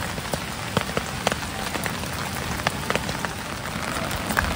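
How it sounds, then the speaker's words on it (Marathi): Heavy monsoon rain falls in the Konkan region, pattering densely and continuously on nearby surfaces, with louder individual drops plinking now and then over the steady wash. "शांतता आहे, फक्त पाऊस आणि मीच आहे असं मला वाटतंय"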